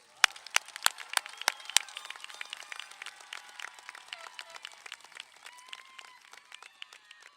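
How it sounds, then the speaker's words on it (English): Scattered applause from a high school graduation ceremony crowd, sharp individual claps at first settling into a steady, softer patter that continues throughout. "Let's give them another round of applause."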